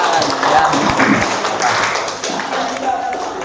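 A classroom group claps briefly during a teaching practice session, scattered hand claps mixed with voices talking in the room, fading toward the end.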